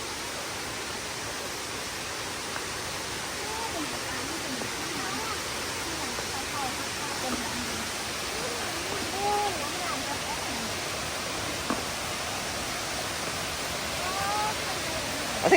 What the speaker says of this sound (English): I think this is sort of like the sticky waterfall